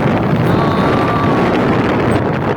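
A motorbike rides along the road toward the waterfalls, its steady engine drone heavily buffeted by rushing wind noise on the microphone, loud and close.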